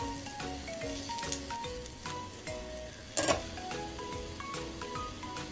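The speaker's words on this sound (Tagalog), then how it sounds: "Heat the pan and add at least 3 tablespoons of cooking oil. Pour the remaining half of the garlic from marination." Garlic sizzles and fries in at least three tablespoons of hot cooking oil in a pan for a beef broccoli stir fry, a steady close crackle with a brief louder burst partway through and no talk.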